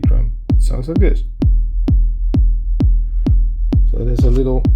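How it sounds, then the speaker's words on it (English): Kick drum with an added bass layer in FL Studio Mobile: a loud, booming, evenly spaced thump about twice per second, each hit with a deep sustained tail, playing under brief bits of speech. "and then with the added bass sound from the kick drum, it sounds like this."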